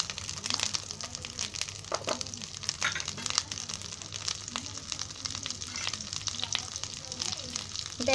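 Oil heats in a pan over a gas flame for a Marathi lemon egg curry, giving a soft, steady sizzle and crackle with occasional stirring clicks and scrapes.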